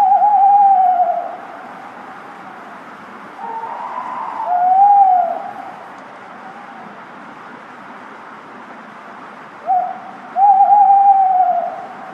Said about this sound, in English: tawny owls were calling from the grounds of Southwick Hall